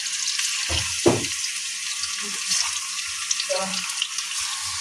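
Steady bubbling sizzle of kola urundai dough balls deep-frying in hot oil, continuous and close, with a couple of soft knocks and clatters near the start.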